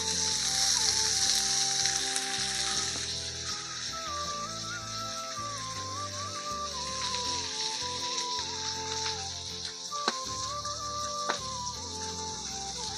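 Dheki greens, fiddlehead fern leaves, sizzle and crackle steadily in a hot pan, a continuous close frying hiss with a few sharper pops near the end.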